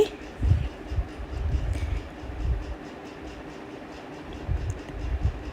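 Inside a moving passenger train coach on a journey from Visakhapatnam to Hyderabad, a continuous low rumble and rolling drone with faint murmuring voices in the background.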